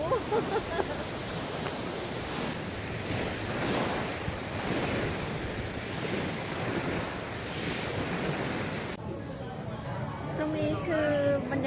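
Sea waves wash continuously onto a beach at night in Roda, Corfu, with wind buffeting the microphone; a voice speaks near the end.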